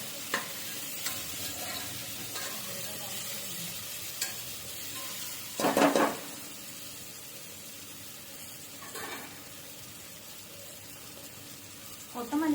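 A chicken biryani mixture cooks in a pot with a faint, steady sizzle, and brief scrapes of stirring stand out here and there, quiet and close.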